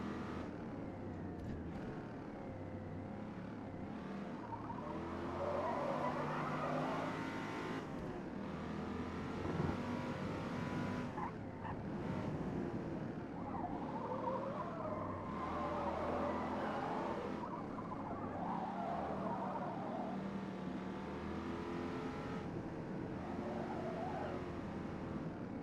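A 1967 Corvette lapping a track in Forza Motorsport, its engine droning and surging steadily through gear changes for the whole stretch, a continuous loud roar with no talk over it.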